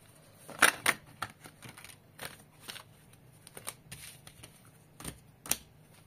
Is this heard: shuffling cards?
yes